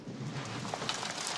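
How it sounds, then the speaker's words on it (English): Steady rain in a film scene from Death Becomes Her, a soft broadband hiss running evenly throughout with no voices or other clear events over it. "Convenient rain."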